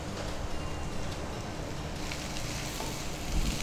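Onions sizzle and fry steadily in a hot pan while a Kannada home-style dish (chitranna or veg ambat) is cooked, giving a continuous close crackling hiss with no talk.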